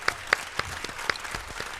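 A small round of applause in a radio studio, a few scattered, uneven claps, fairly faint, lasting under two seconds.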